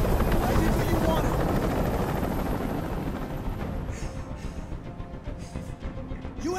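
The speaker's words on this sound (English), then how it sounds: "Tell that helicopter to get out of here!" In the video game Detroit: Become Human, a helicopter hovers overhead with a loud, continuous rotor roar and chop that eases slightly toward the end.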